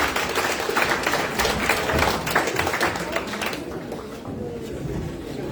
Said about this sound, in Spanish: Muchachos, fuerte aplauso.